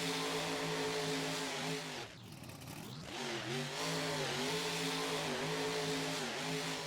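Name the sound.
monster truck engine driving, Rigs of Rods video game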